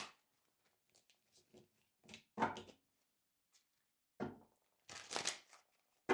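Tarot cards are shuffled in several quick riffling bursts separated by short pauses, close and fairly quiet.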